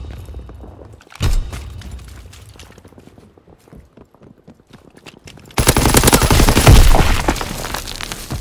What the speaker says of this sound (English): Pilot ready for strafing run.